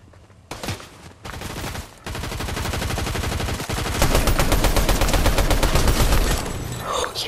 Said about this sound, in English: he's shooting at me